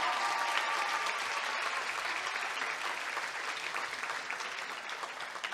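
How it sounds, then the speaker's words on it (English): Audience applause for Zest at the Zest Fest 2015 show, a dense, steady wash of many hands clapping that stays loud and even throughout. "Give Zest a round of applause"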